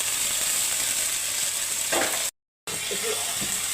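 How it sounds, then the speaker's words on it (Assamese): Rajina leaves frying in a hot pan for shukloti greens, a steady bright sizzle with intermittent scraping stir sounds, interrupted by a brief dropout before the sizzling resumes. "ৰজিনাৰ পাতখিনি ভাজি লৈছোঁ"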